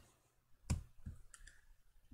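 Computer mouse clicks while selecting items in FreeCAD 3D modeling software: a few sharp, close clicks, with the loudest near the start and softer ones following.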